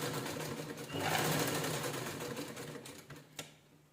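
A sewing machine runs a fast, steady stitch on a velvet blouse, close and continuous, slowing and stopping near the end with a small clunk.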